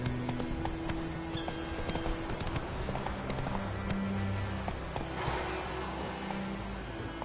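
Hooves of a horse in The Witcher 3 beat a steady, quick clip-clop rhythm over a low hum of game ambience, with the animal close and moderately loud throughout.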